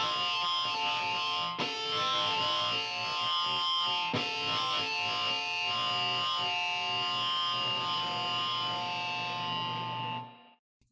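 Osiris piano plugin, sampled from a Yamaha C2 grand, played with heavy distortion: sustained saturated chords with sharp attacks near 1.6 and 4.2 seconds, a dense buzzing harmonic wash that cuts off abruptly just past ten seconds.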